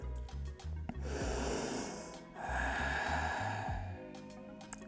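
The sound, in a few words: deep breath in during a yoga relaxation exercise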